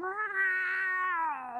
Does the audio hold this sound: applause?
no